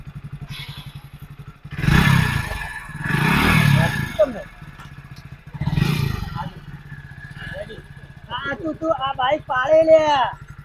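A motorcycle engine revs in loud, rough bursts with clattering, mechanical knocks over a steady low idle, then quieter running as several people talk toward the end.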